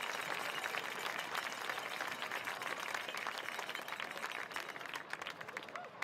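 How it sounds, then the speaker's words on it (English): Crowd applause fills a high school football stadium, a steady wash of many hands clapping at a distance, continuous and fairly loud throughout with no talk over it. "let's give a big round of applause for all of our sponsors and school-based support."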